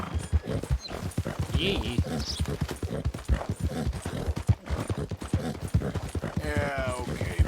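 Horse hooves clip-clop steadily in Red Dead Redemption 2, a fast even rhythm of sharp close knocks that runs throughout under someone talking, with a brief whinny near the end.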